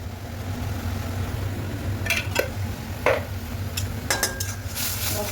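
Onion and garlic paste with chili, turmeric, cumin and salt is stir-fried in a pan, a low steady sizzle broken by a few sharp spatula clanks against the metal, with no voices.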